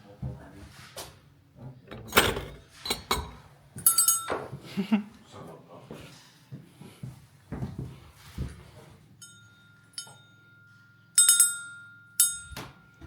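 A church bell rings with a sustained tone, repeated strikes sounding in the distance, amid nearby clattering, footsteps and people talking inside an abandoned church.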